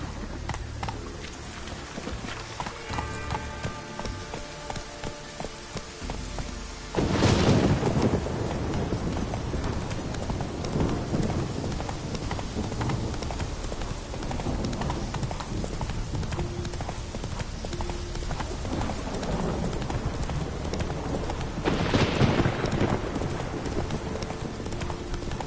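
Roach, a horse in a Witcher video game, gallops with loud continuous hoofbeats drumming in a steady rhythm, with a couple of sharp whooshing bursts along the way.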